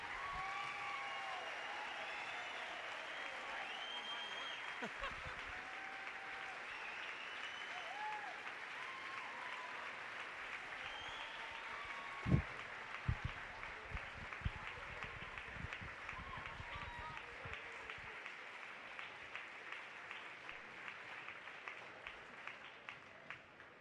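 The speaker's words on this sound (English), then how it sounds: "let's give a big Milford applause for Coach Ted Dixon" Sustained applause from a high school gym crowd honoring Coach Ted Dixon at his court dedication in Milford, a dense even wash of clapping lasting over twenty seconds, with a sharp thump midway and scattered claps fading at the end.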